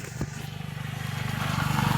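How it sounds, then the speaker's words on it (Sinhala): A motorcycle passes on the road, its low, pulsing engine drone growing steadily louder as it approaches. "බයික් එකක් ගියා"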